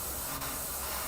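An airbrush sprays paint onto a wooden skull panel, giving a steady, loud airy hiss that holds evenly through the whole moment with only a tiny dip, close to the listener and without any talk.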